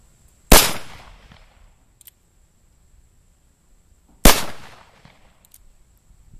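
Two loud, sharp gunshots from a Cimarron El Malo II .45 Colt revolver with a 3.5-inch barrel, fired a few seconds apart outdoors, each followed by a short decaying echo in quiet surroundings.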